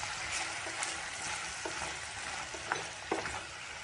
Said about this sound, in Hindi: और इनको अच्छे से मिक्स कर लेंगे।